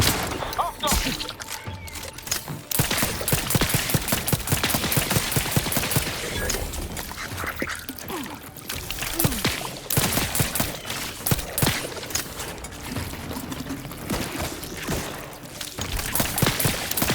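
Sustained firefight in The Outer Worlds 2, with dense rapid shots and scattered impacts, loud and continuous, and a voice speaking at times beneath the gunfire.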